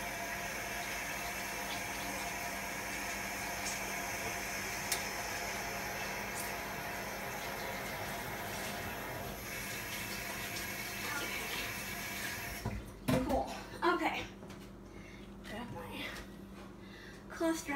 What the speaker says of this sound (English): Let me wash my hands really quickly because they're all greasy now.